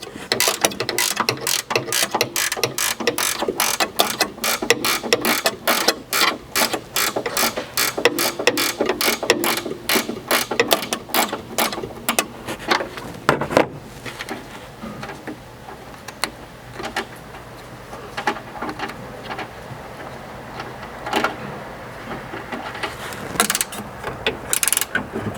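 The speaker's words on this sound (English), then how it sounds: "I switched to a ratcheting wrench for these, which lets us get in here a little bit easier" A ratcheting wrench tightens roof rack bolts on a Ford Maverick, rapid loud clicking runs in quick bursts for about half the time, then sparser clicks and handling noises follow, close up with no talking.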